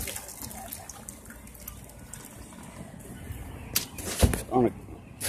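Water drains from a large pot of boiled crawfish set on a patio slab outdoors, a low trickling wash under background noise, ending with a few louder splashes and clatter.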